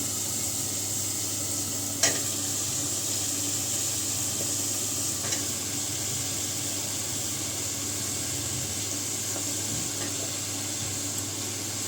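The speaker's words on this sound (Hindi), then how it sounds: "अब मैं इसमें ना पोई साग डाल दूँगी।" Poi saag greens going into a pan of frying masala with prawns, a steady, even sizzle that runs throughout with a few faint knocks of stirring and no talking.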